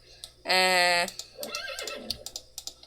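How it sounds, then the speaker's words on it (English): A horse in the Minecraft video game, a flying bat-like horse that has just finished morphing, gives one loud, clear whinny lasting about half a second, followed by softer snorts and scattered clicks. "But it does make normal horse noises after it has finished morphing."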